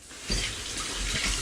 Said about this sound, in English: I'm gonna pour over top of the vegetables